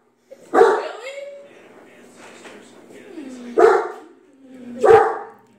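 A dog barks three times, loud and close, with short gaps between the sharp barks, while people talk around it.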